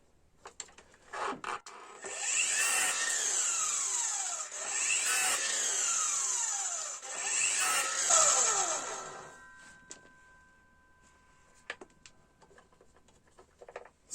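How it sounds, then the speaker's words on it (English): A combi drill drives screws into wood in three long grinding bursts, the motor pitch dropping as each bites, with small clicks and knocks in between. "use the combi drill, put the screw into that and then screw this into the side"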